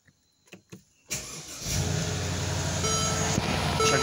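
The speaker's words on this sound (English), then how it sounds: "you can start the vehicle." A few clicks sound before a 2013 Mercedes-Benz GL450 engine cranks and catches, settling into a steady, close idle hum that continues to the end.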